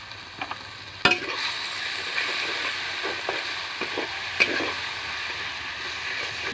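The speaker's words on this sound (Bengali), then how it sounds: "মশলা ভাজা হয়েছে।" Salt, cumin powder, turmeric, dried red chili powder and bay leaf fry in a pan for a home-raised chicken curry, giving a steady close sizzle broken by a few sharp clinks of a spoon.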